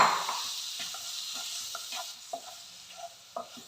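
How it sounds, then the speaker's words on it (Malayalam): Rambutan pickle being stirred in a pan, a steady sizzle of hot oil with soft scraping and tapping strokes every half second or so, close and moderately loud, no voices. "റംബൂട്ടാൻ ഇട്ട് ഒരു 5 മിനിറ്റ് നമുക്കൊന്ന് നന്നായിട്ട് ഇളക്കി കൊടുക്കാം"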